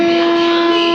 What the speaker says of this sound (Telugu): ICF integral coach factory demo, diesel electric multiple unit